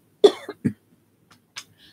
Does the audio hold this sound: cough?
yes